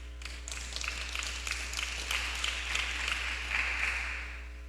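A church congregation claps together in a sustained round of applause, a dense wash of many hands at a steady level with a low hum underneath and no speech.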